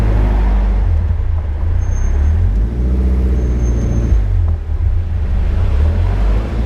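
A Caterham Seven 270S crawls through stop-start traffic, its engine a steady loud low drone with slight rises and dips and a rumbling cabin hum, and no speech.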